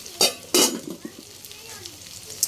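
Okra omelette (tortang okra) frying in a pan, with a few sharp sizzling bursts and scraping stirs over a low background hiss, alone without talk.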